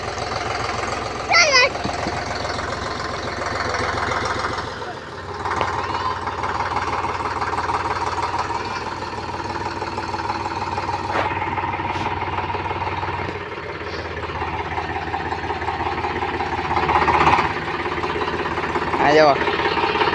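A parked Swaraj tractor engine idles nearby on a farm with a steady low knocking throb, while people talk over it and a voice is heard at times.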